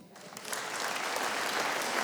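A comedy club audience at a Juste pour rire stand-up show bursts into applause, rising quickly from quiet and holding as a steady, dense wash of clapping.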